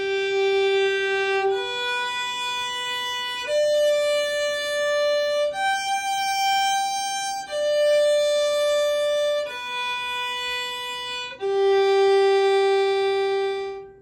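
A violin playing a slow tonalization exercise from a Seitz Concerto in G Major lesson, seven sustained notes each held about two beats, stepping up and back down in pitch, clear, close and ringing with no talking over it.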